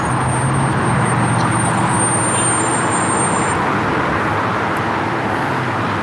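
Steady loud road traffic heard while walking home on a hot day, cars and heavier vehicles rushing past in a continuous roar with a faint high whine, no talk.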